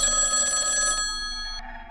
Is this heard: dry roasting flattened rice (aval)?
no